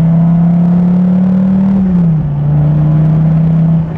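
Dodge Viper TA 2.0 engine heard from inside the cabin, a loud, steady low drone that sags briefly and settles back to an even hum, with no talking.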